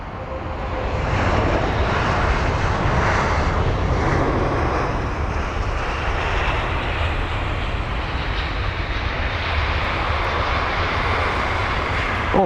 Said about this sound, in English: the aircraft that just arrived from Olbia, the A319